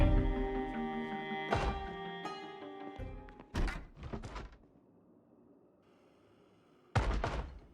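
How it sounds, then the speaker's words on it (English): A video game zombie thuds heavily against a door in uneven bursts, separated by stretches of quiet, with a final loud bang near the end. "Awoken by a zombie banging into a door"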